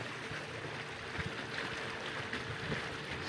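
Inflatable fishing boat on open water with its motor at half throttle, about 4 miles an hour: a low, steady engine drone mixed with rushing water and hull slap, continuous and fairly quiet.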